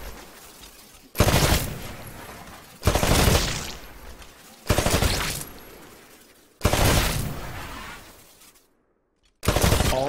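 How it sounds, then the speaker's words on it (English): Rifle fire at targets on a shooting range in Titanfall: five loud bursts of rapid shots, each lasting one to two seconds and separated by short pauses, with a brief silent gap before the last burst. "Switch to your rifle. To take a more calculated shot, you can aim down the sights of your weapon."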